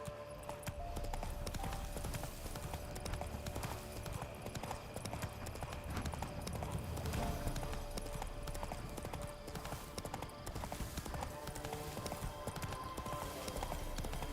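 Horse galloping in The Witcher 3 video game, with continuous rhythmic clip-clop hoofbeats over dense game ambience, loud and steady for the whole stretch, with faint talk at moments.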